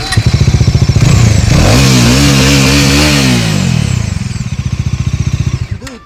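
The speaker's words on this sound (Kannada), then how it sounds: "ಇವಾಗ ಬನ್ನಿ ಡಾಮಿನರ್ ಸೌಂಡ್ ಕೇಳೋಣ ಗುರು" A Bajaj Dominar 400 motorcycle engine runs close by: a pulsing idle thump rises into a loud rev that wavers and falls back to a chugging idle before cutting off.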